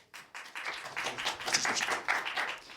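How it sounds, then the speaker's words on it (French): A crowd at a live comedy show claps in a brief, fairly close burst of applause lasting under three seconds. "On les applaudit très fort, s'il vous plaît."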